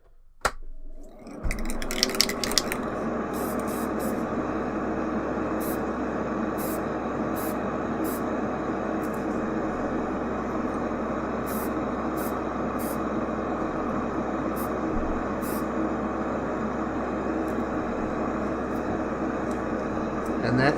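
Model railroad tank car trucks being spray painted inside a spray booth with its extraction fan running: a steady, loud broadband hiss and whoosh that starts after a brief quiet moment and continues throughout, with no talking.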